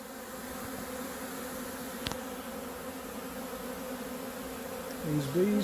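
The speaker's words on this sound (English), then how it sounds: "Good healthy hive of bees" A dense, steady hum of a large hive of honey bees buzzing close by, removed from a house ceiling, with a brief click partway through and a louder buzz near the end.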